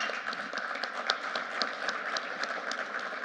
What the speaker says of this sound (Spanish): Un aplauso, por favor, para Francisca.